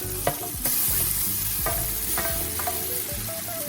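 Diced onions, garlic and fire roasted peppers for chili are stirred in a hot pan, giving a loud close sizzle with rhythmic scraping strokes of the spoon, no voices.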